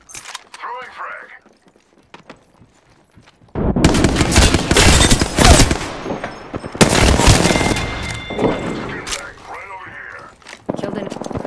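A frag grenade in the video game Apex Legends bursts into loud, heavy blasts that sit among rattling gunfire, following a quieter lead-in with a few faint clicks.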